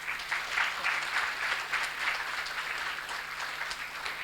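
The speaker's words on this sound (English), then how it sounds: "A round of applause for that." Steady applause from an audience at a student session with an author at a book fair, even and sustained throughout with no voices over it.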